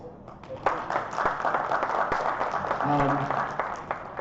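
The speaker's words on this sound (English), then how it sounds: "That's worth some more applause." Audience applause at a grief and loss workshop sponsored by a Baptist church, steady clapping throughout with a voice or tonal sound briefly audible near the end.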